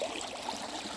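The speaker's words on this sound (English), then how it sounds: "I just stay for a moment because of the sounds of the water." A hiking-trail stream flows steadily nearby, a continuous bright rushing and trickling wash with no breaks and no voices.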